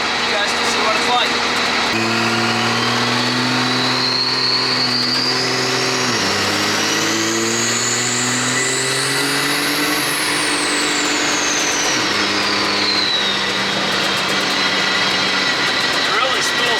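A triple turbo Ford car engine drones steadily while driving around the block, pitch stepping up and down through gear changes with a high turbo whine rising and falling over the top, loud and close throughout.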